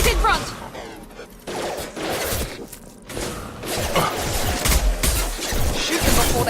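Heavy gunfire and impacts in a Mass Effect 2 combat firefight, a continuous loud barrage of shots and crashes with shifting intensity throughout.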